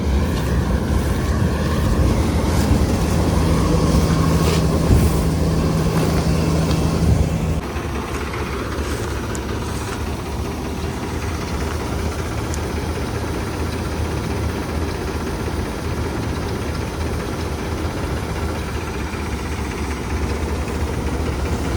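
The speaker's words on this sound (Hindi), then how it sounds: "ले चले ट्रैक्टर।" A farm tractor engine runs steadily during a wheat harvest, a loud constant low rumble with wind buffeting the microphone, its tone dropping slightly partway through and holding level to the end.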